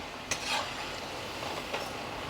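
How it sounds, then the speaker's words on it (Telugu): Hand-pressed rice crackers (chethi chekkalu) frying in oil over medium heat, a soft steady sizzle with a couple of brief scraping clicks as they are turned. "ఇట్లా తిప్పి మీడియంలో వేయించుకుందాం"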